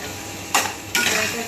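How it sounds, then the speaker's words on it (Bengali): Potatoes sautéing in a pan with turmeric, cumin and chilli powder: two loud, bright scraping strokes of a utensil against the pan over a quiet background, with no talking. "ভালো করে কষিয়ে নেব।"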